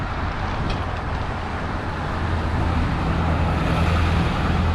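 A car drives along a road through Boonville, passing a roadside cafe and a wine tasting room, giving a loud steady rumble of tires and engine with wind noise and no talking.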